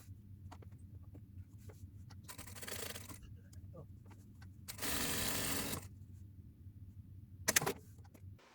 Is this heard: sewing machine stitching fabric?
yes